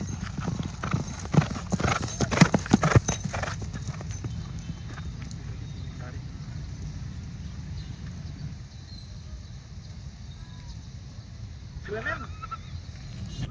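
Horses ridden by young jockeys on Sumba trot past, hooves clip-clopping loudly and rhythmically before fading to a fainter patter, with a brief whinny and a little talk in the background.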